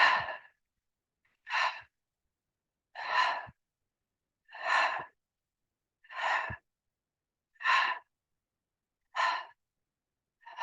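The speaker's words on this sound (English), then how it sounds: "let's do a couple of out breaths" Slow, forceful exhalations during qigong breathing practice, eight separate breathy out-breaths spaced evenly about every one and a half seconds, close and clear with silence between each.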